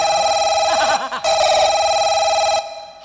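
A mobile phone rings with a steady electronic tone that sounds continuously, breaks briefly near the one-second mark, then carries on before cutting off toward the end.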